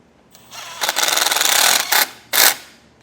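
A power tool drives a self-tapping Phillips-head bolt into the end cap of a Solera slide-out awning on a 2016 Fleetwood Bounder RV, giving a close, buzzing whir in three bursts, the longest in the middle, with a short final spin.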